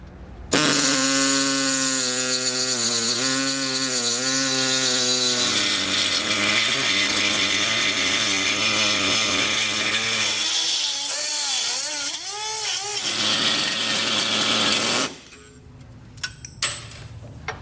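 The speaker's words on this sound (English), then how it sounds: "I'll go ahead and get this material removed" A loud power saw whines continuously through metal on a 2016 Mazda while fitting a Roadmaster base plate, its pitch rising and falling as the blade bites, then cuts off, leaving faint clinks.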